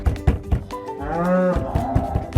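A black and white cow on a farm gives one long, close mooing call in the middle, with soft irregular thumps and shuffling before and after.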